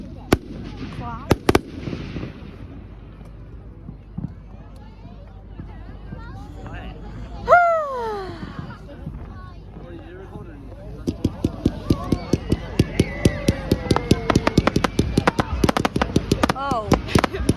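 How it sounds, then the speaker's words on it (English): Bonfire Night fireworks burst overhead with sharp pops and crackles, then a rising whistle and dense rapid crackling as the shells break into flares, loud and close, with people exclaiming over them. "Fireworks that pop into flares."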